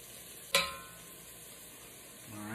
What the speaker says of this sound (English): Right, set that aside. Stir the garlic in.